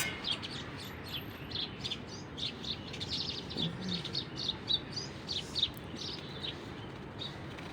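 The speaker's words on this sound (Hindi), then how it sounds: "इन चिड़ियों की आवाज़ों को सुन सकें" Birds chirp in quick, repeated high tweets throughout, at moderate distance, over quiet outdoor ambience with no talking.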